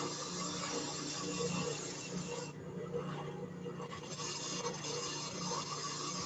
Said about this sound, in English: we have that inside curve nicely sanded